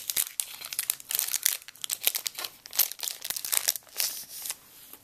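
Foil wrapper of a Yu-Gi-Oh Battle Pack 2 booster torn open by hand, with bursts of close, bright crinkling and tearing over about five seconds and no talk.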